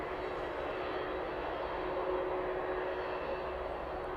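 An airliner taxis along the taxiway toward runway 27 at East Midlands Airport, a steady distant engine roar with a constant whine, no voices.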